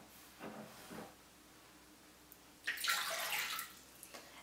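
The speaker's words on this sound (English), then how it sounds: "I'm just using hot water for the tap." Hot water runs from a kitchen tap into a container in short hissing bursts, one brief and one longer, close and moderately loud with no voices.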